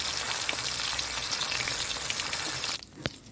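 Soft fish sizzles steadily in hot oil in a pan, a close, even crackle that suddenly drops away near the end, followed by a single faint tap.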